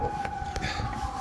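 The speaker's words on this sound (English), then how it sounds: "there you go, ambulance again" An ambulance siren passes outside, a steady wailing tone carried at moderate volume over a rough background.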